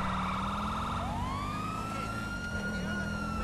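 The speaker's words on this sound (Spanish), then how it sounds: "No ven las sirenas, muchachos" Police sirens wail loud and close in GTA V with the LSPDFR mod during a protest scene with a water cannon truck, one tone sweeping up and down over steady engine rumble.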